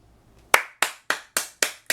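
Hands clap five or six times at an even, steady pace, sharp and close, after a brief quiet moment.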